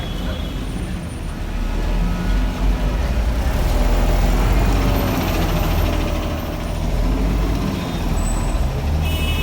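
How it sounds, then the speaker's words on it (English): Yangon city bus YBS 28 rumbles past on a rainy street near City Hall, a heavy diesel engine drone with low idling throb and a brief high air-brake hiss amid steady traffic noise. "This is YBS 28, bus number 28."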